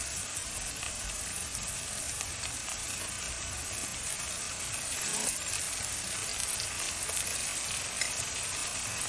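Green chilli, onion and ginger fry in oil for a Hyderabad street-food chicken biryani gravy, with a continuous close sizzle and occasional scraping of a stirring spoon throughout.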